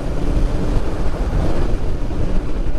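Strong wind buffets the microphone in a loud, continuous roar with gusty swells and no pauses.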